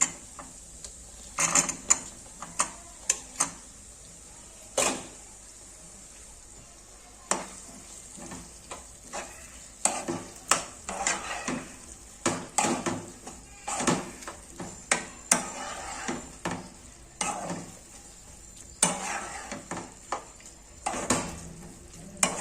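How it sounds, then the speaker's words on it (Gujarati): Fried patra (colocasia leaf rolls) stirred into a sizzling corn curry in a pan, with a steady fry hiss broken by repeated scraping and clattering strokes of the spoon against the pan, fairly close, with no talk. "આપણે જે પાત્રા ફ્રાય કર્યા હતા એ પણ આપણે એડ કરી દઈશું આમાં"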